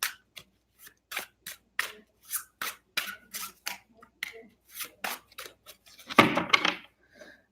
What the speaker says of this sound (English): I don't know why I have to do so much shuffles for you right now.